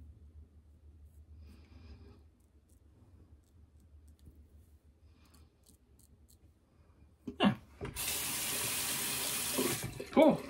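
A sink tap suddenly opens and water runs loudly and steadily into the basin for rinsing after a shave, following several seconds of near silence with a few faint clicks.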